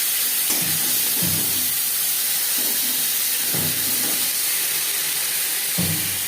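Ginger and green chili paste sizzles over fried panch phoron spices, a loud, continuous hiss broken by several soft low thumps from stirring.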